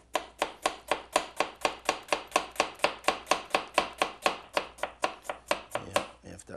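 A knife slices onions for tarte flambée in quick, even strokes, each cut tapping sharply on a cutting board, about twenty-five crisp, close chops.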